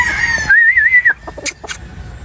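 Roosters in a yard give a drawn-out crowing call followed by a few short clucks, loud and close.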